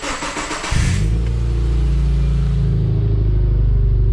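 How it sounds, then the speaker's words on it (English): A car fitted with an aftermarket sports exhaust starts with a burst and then holds a loud, deep, steady rumbling idle close by, with no talking. "So I just wanted an exhaust for this car, but I've accidentally bought a sports exhaust."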